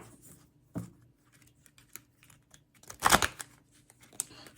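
A deck of tarot cards is shuffled by hand, with a soft riffle early on and a louder burst of flicking cards about two-thirds through, amid quiet taps and rustles.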